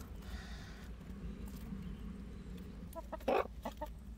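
Backyard chickens clucking nearby, soft low murmuring clucks followed by a sharper, louder squawk near the end, over quiet outdoor background.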